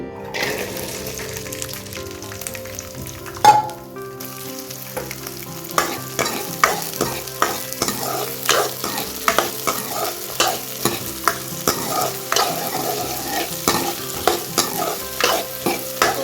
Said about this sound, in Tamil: நெக்ஸ்ட்டு பார்த்திங்கன்னா நம்ம வந்து சுண்டக்காவை லைட்டாக வதக்கிக்கலாம்